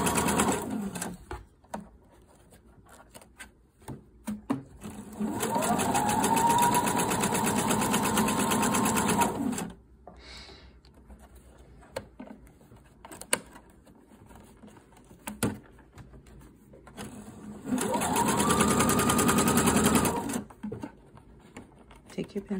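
Sewing machine stitching in an invisible zipper runs in two steady bursts of several seconds each, separated by quieter handling sounds, while someone talks in between.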